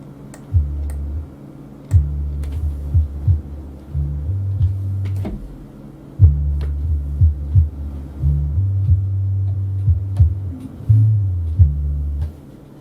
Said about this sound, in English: that's when you can really hear the bass line come out